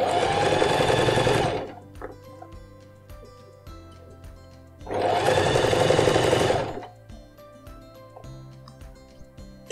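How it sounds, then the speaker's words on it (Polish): A sewing machine stitches the hem of a pair of jeans in two loud close bursts of rapid whirring, each about two seconds long, separated by quiet pauses with small clicks and handling sounds. "to swobodnie mogę szyć dalej, wyjmując po drodze szpilki"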